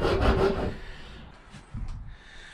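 A hand saw cuts through wood along a marked line, giving a short series of rough, raspy back-and-forth strokes at close range, fading off partway through before a final stroke.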